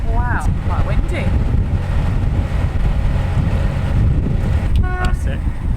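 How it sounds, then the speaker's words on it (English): Strong wind buffeting the microphone throughout on a narrowboat, a loud continuous low roar, with faint horn-like tones briefly cutting through. "Wow, quite windy."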